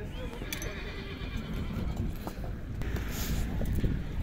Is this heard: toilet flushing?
no